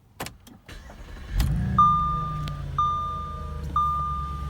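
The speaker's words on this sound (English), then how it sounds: "that beautiful V8 sound" A 4.2-litre V8 in an Audi S5 cranks and fires up, settling into a deep, steady idle rumble, close and loud, with a few sharp clicks and tones from the car around it.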